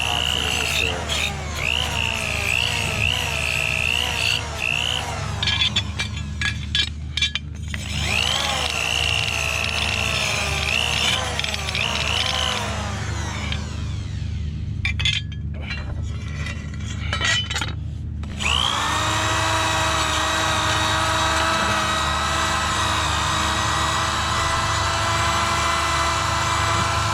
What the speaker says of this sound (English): using a wire wheel on a hand drill